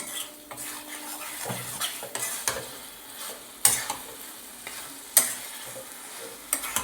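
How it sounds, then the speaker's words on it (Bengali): A spoon scrapes and clanks against a pan while cashew mutton curry is sautéed over medium heat. Irregular stirring strokes land over a faint sizzle, with a few sharper metallic knocks, close by and without speech. "এবার এইটা পনেরো মিনিট থেকে কুড়ি মিনিট আমি কষাবো"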